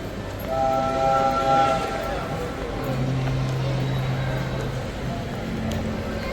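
A children's toy ride train rolls through a shopping mall, its horn tooting sustained tones over a loud crowd murmur while someone talks nearby.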